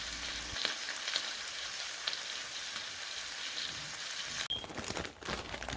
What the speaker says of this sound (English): I started by frying up a couple strips of bacon.